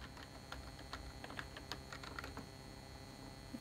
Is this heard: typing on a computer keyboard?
yes